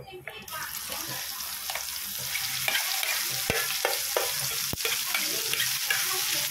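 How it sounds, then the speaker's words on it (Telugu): Spoon stirring ground sweet mint chutney into a hot tempering in a pan, with steady sizzling and frying and a few sharp scraping clicks against the pan, close and continuous. "ఇప్పుడు ఈ నూరుకున్న పుదీనా పచ్చడి మనం ఇందులో వేసి కలపాలి"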